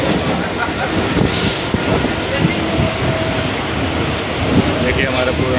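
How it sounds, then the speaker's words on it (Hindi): A Mumbai local train rolls along toward Ghatkopar, with a steady rumble and wind roar from inside the carriage throughout and some faint chatter mixed in. "लोग इसमें लोकल ट्रेन में बैठ चुके हैं"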